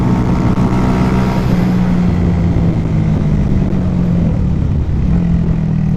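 A Masai Greystone 125 motorcycle being ridden, its engine droning loud and steady with slight pitch shifts as it speeds up, mixed with heavy wind rush.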